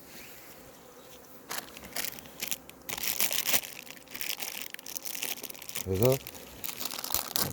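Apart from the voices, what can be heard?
tearing plastic wrapping off a pollen patty for bees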